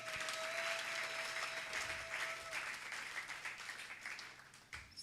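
Church congregation applauding the King of Kings, a dense, continuous roar of clapping that fills the room, with a few voices and a held tone mixed in before it starts to thin out.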